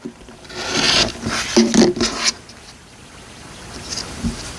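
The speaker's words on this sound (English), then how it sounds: "I'm going to go in and trim this off that 1/4 of an inch" A rotary cutter trims a quarter inch of fabric off a quilt block, giving close rasping strokes for about two seconds that fade into a quieter scratchy rub.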